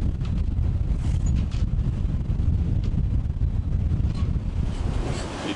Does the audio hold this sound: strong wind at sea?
yes